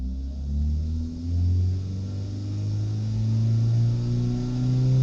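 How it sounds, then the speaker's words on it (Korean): A tuned Hyundai Veloster JS 1.6 T-GDi engine idles and revs with a steady, loud rumble, pitch rising and falling slightly; no distinct exhaust pops stand out, no talking. "RPM이 이제 서서히 올라갈 때는 가만히 있다가 이제 RPM이 빠질 때 소리가 나죠"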